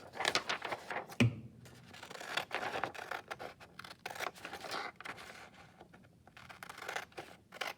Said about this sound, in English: I want to cut on the line as much as possible